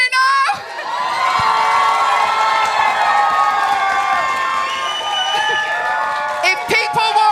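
An audience at a Beat The Frog comedy night roars for a contestant with loud, sustained cheering, shouts and whoops that stay full and steady throughout, with a few sharp claps and thumps near the end.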